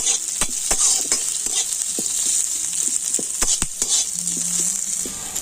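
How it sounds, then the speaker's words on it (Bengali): Onions and green chilies fry in a pan, with a steady close sizzle under repeated stirring scrapes and taps of the spatula. "তো পেঁয়াজটা আমি লাল করে ভেজে নেব"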